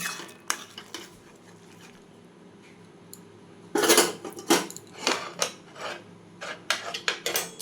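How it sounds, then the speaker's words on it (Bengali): Boiled mango dal is tipped out of a metal pot in a home kitchen, heard as a quiet stretch followed by a series of loud scraping, clattering clanks of spoon against pot. "এটাকে আমি ঢেলে নিচ্ছি"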